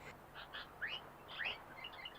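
A sooty-headed bulbul sings a few bright, rising chirps and short warbled phrases, fairly faint over a quiet background.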